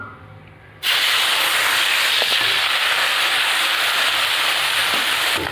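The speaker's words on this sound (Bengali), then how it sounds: "এবার মাছগুলো ভেজে নেব" Fish coated in salt and turmeric hits hot oil in a wok, bursting into a loud, steady sizzling hiss after a quiet start that continues without pause.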